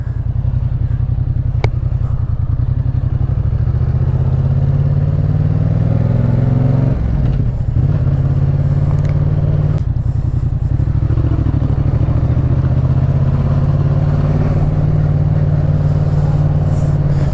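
A Yamaha MT-07 motorcycle cruises along country roads, its engine a loud, continuous drone with shifts in pitch as it accelerates and eases off, heard close up throughout.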